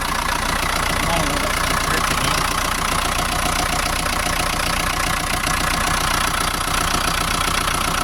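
A Ford 6610 tractor engine idles steadily and loudly just after starting, a continuous diesel rumble with voices talking over it.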